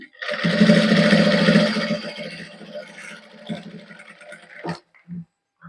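An electric sewing machine runs in a steady, loud burst while stitching undershirt fabric, then slows into a few short stitches and clatters close by, with no speech over it.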